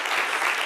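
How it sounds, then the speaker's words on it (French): Applause from an audience at a French-language guest tribute event, a dense continuous wash of clapping at steady loudness throughout the short burst. "Et ça mérite un tonnerre d'applaudissements."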